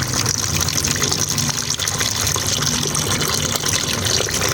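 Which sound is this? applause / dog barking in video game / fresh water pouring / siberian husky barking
fresh water pouring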